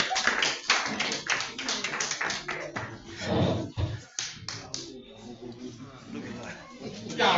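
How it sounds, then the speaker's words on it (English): Audience clapping welcoming a speaker at an Igbo community event in Wales, close and uneven with individual sharp claps, loudest early and then tapering, with voices in the room. "Can we give him a round of applause, please?"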